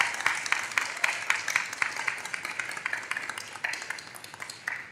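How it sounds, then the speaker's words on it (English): A school senior day audience gives a round of applause, many hands clapping at moderate volume in a fairly steady patter that gradually thins toward the end. "how about a round of applause to Mariana D'Amelio for her work"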